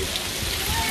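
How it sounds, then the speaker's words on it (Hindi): Heavy rain pours steadily at a cricket ground during a T10 league match, a dense continuous hiss of drops close by with no break, while faint voices sit in the background. "बारिश फुल स्पीड जी, छेवे गेरे च लगी है जी. As you can see heavy rain."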